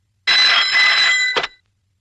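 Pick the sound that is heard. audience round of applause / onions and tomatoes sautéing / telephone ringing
telephone ringing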